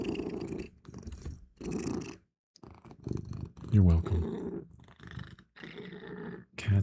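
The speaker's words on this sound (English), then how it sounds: "He has a loud purr." A cat purring loudly right up against the microphone, a low rumbling purr in bursts between brief gaps, with a person talking over it.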